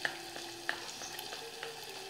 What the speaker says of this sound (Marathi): त्यात थोडंसं ताक टाकून हे छान मिक्स करून घेऊ।